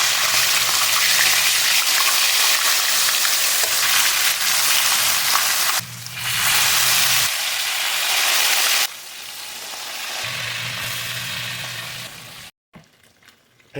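Spanish mackerel (tanigue) fish frying in hot oil in a frying pan, a loud steady sizzle with crackling that shifts in intensity as the pan is handled, then cuts off abruptly near the end.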